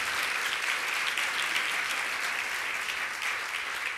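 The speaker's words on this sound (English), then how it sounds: "Let's give him a round of applause." Audience applause fills an award ceremony hall: dense, sustained clapping from many hands, steady and loud throughout with no break.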